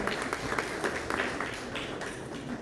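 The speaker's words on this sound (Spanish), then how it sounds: "muchas gracias por los aplausos" An audience at a book presentation on South American camelids claps steadily, a soft, fairly distant patter of many hands with no voices over it, fading slightly toward the end.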